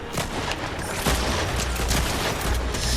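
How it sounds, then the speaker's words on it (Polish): Rapid bursts of gunfire from Fortnite, dense overlapping shots firing continuously and loudly for the whole stretch with no talking. "Czemu on strzela?"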